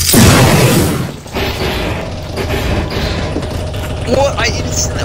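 Grenade blast in Counter-Strike: Global Offensive on a zombie escape map, a loud booming burst at the start that decays into rumbling game noise, with players talking over it.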